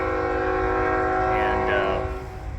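A Union Pacific intermodal freight train passes through town, its horn sounding a long, steady, loud blast over the low rumble of the moving cars.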